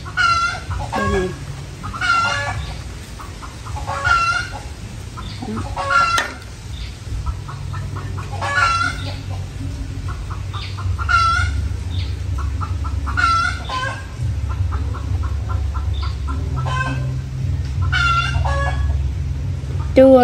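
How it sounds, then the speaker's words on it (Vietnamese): Chickens kept on a home farm cluck and call repeatedly at midday, the egg-laying hour, in scattered bursts over a steady low background hum. "Trưa là nhà mình là gà nó hay kêu lắm, tại vì gà nó hay đẻ buổi trưa á"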